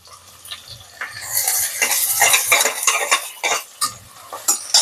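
Large onions tossed into hot oil with whole cinnamon, cloves and cardamom for white mutton biryani, a sharp burst of sizzling followed by spoon clinks and scraping stirs against the pan.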